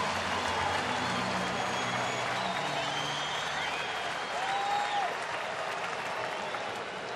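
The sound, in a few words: home crowd cheering and applauding at a baseball game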